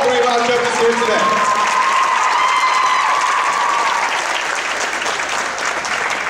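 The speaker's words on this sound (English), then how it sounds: "give a round of applause for all three of our judges here today" A live audience in Brooklyn claps and cheers in sustained, dense applause for three judges, loud and steady throughout, with a brief sung or spoken tone near the start fading under the clapping.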